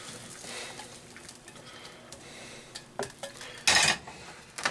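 Metal utensils scrape and clink against a bowl as apple sage stuffing for a pork tenderloin is transferred in. The sounds come as scattered taps and soft scraping, with a louder clatter near the end.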